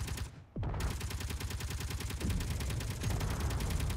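Enemy gunfire in the video game Underground Alone rattles in a rapid, steady stream at moderate volume, after a brief dip near the start.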